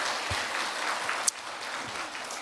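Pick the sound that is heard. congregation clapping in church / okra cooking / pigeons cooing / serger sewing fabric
congregation clapping in church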